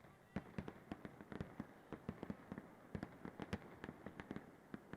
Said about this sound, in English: And outside you can hear fireworks going in the background, it sounds like.